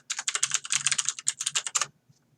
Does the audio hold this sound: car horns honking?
no